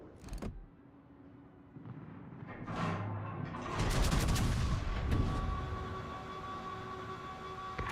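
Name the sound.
torpedo hitting a ship in video game World of Warships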